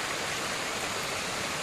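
River water near Casile Falls rushes in a steady, dense broadband roar, close and constant, with no voices over it.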